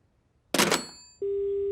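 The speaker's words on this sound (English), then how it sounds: "Hello? Oh, the phone must be broken." A telephone line tone from a broken phone in a children's cartoon: a short noisy crackle, then a steady, unbroken electronic tone that holds loud and even to the end.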